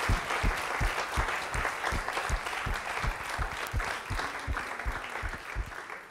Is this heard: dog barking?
no